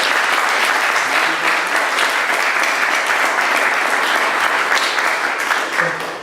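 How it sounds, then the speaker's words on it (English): A festival audience gives sustained, dense applause for the comics artist Eddie Campbell, steady and close throughout, easing slightly toward the end. "round of applause please for Eddie Campbell"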